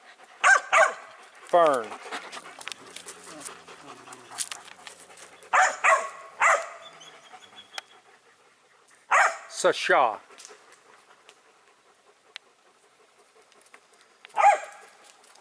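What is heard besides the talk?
dogs barking and panting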